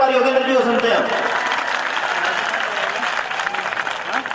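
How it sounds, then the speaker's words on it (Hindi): Audience applause at an all-India Hindi poetry gathering (kavi sammelan) in Tonk, sustained loud clapping from a seated crowd, with a voice briefly audible at the start before the clapping carries on alone. "जोरदार तालियां बजा लो एक बार योगेंद्र जी को सुनते हैं"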